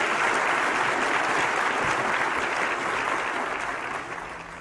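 An audience applauds to welcome a speaker at an NIH lecture on complementary and alternative medicine, a steady dense wash of clapping that stays loud and then eases off slightly toward the end.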